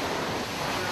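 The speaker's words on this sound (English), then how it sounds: "bigger waves coming in" Big surf driven by Hurricane Matthew roars in a constant, loud wash of breaking water and wind, heard up close for under a second with no voices.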